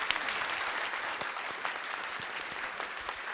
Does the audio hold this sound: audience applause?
yes